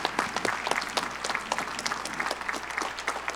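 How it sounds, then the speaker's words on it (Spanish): An audience claps steadily for Eduardo de Lepich at an anniversary event, a dense, continuous patter of many hands that stays fairly loud throughout. "pido un aplauso para Eduardo de Lepich"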